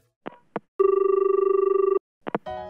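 An outgoing telephone call rings out: one long, steady electronic ring tone follows a few short clicks and is followed by more clicks and a short burst of tone.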